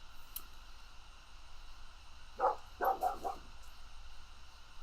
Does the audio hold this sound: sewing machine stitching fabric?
no